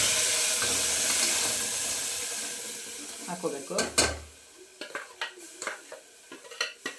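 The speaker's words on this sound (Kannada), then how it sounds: "ಈ ಮಸಾಲೆ ಹಾಕಿ ಒಂದು ಎರಡು ನಿಮಿಷ ಫ್ರೈ ಮಾಡಬೇಕು" Ground masala paste fries in a spoonful of hot oil for mutton sambar, first a steady sizzle that fades, then a run of sharp spoon scrapes and clinks against the pan, with a brief spoken word.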